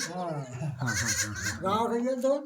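Goats bleat nearby in a few wavering, drawn-out calls that overlap one another, at a family's cave dwelling.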